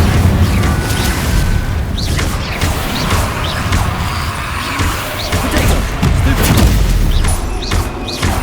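Repeated Confringo blast-curse explosions in Hogwarts Legacy, a dense ongoing battle of heavy booms and crashes, loud and close, with several sharp bursts breaking through the rumble.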